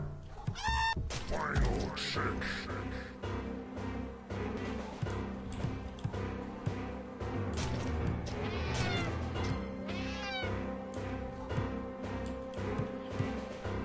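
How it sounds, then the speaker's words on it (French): Several cats meow repeatedly inside the Friday the 13th: Killer Puzzle video game, their cries layered over a looping game music track, with occasional sharp effects. "Tu vois, ces chats, Jason, fais leur peur pour qu'ils aillent vers le haut et qu'ils ne te gênent pas."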